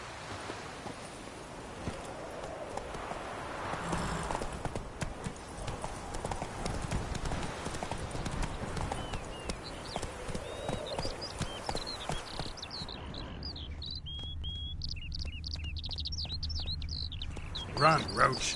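Rhythmic hoofbeats of Roach, a horse in a PS4 game, galloping steadily and close, with bird chirps rising in the later part and a brief voice near the start.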